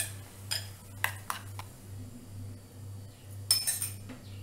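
A spoon stirring baking soda into batter in a bowl, giving sharp clinks and scrapes at irregular intervals over a low steady hum.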